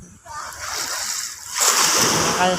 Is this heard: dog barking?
no